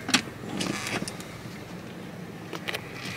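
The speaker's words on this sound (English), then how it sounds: "Put the parking brake on." Foot-operated parking brake on a 2000 Buick Century being pressed on, a few close mechanical clicks and a ratcheting clunk inside the car, with a faint background hum between them.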